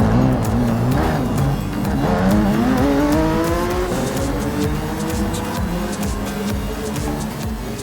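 A race car engine revs and runs in Gran Turismo Sport on PS4, its pitch climbing and shifting through gears over a steady loud drone, with faint tire noise and no talk.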